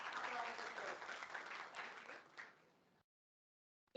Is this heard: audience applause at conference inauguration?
yes